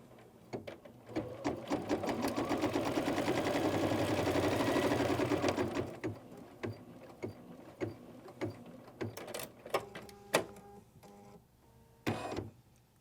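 An embroidery sewing machine stitches a quilt block held in the hoop, running as a loud, steady whir for about six seconds before breaking into short, irregular bursts of stitching and clicks.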